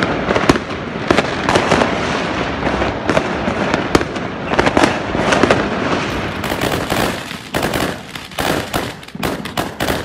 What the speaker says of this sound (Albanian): Në Lesh fishekzjarët u hodhën nga Kalaja për të shmangur grumbullimet.